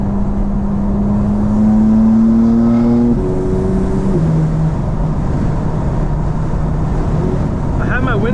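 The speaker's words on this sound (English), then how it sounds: "hopefully you can still hear the exhaust" A 2024 BMW M4 drones along on city streets in Atlanta, its exhaust a steady low hum that shifts in pitch through gear changes, heard from inside the cabin under wind noise while a driver talks.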